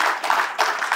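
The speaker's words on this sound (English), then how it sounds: "we're gonna give them a round of applause." A crowd applauds helpers called up front at a long-range rifle championship awards and giveaway gathering, dense steady clapping filling the whole moment at moderate loudness with no talk.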